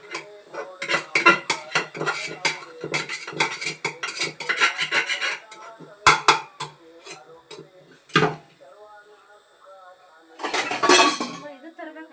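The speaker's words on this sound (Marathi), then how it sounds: "कुकरमध्ये थोडंसं भात राहिलं ते काढायला" A metal spoon scrapes and clinks against the inside of a pressure cooker to dig out leftover cooked rice. The scrapes come in quick irregular bursts, then pauses, then a few sharper knocks and one last rough scraping flurry, close and loud.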